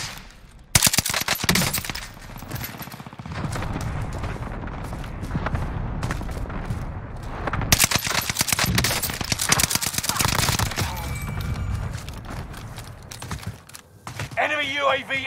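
Gunfire in Call of Duty Warzone on Fortune's Keep: dense, loud bursts of automatic fire and booming impacts fill most of the stretch, with voices talking over the shooting.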